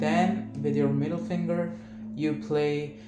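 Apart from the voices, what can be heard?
No everyday noise stands out behind the speech.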